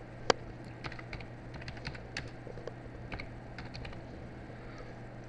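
Light, irregular clicking of a computer keyboard while a web page is typed, with one sharp louder keystroke near the start, then scattered quiet taps over a steady low hum.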